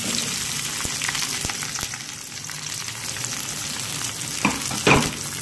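Onions drop into hot oil and fry with a steady crackling sizzle, close and fairly even, broken by a couple of louder spits and pops toward the end; no voices.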